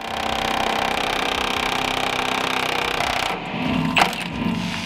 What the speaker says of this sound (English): with my trusty Milwaukee impact gun, the rusty bolts came off with almost zero fight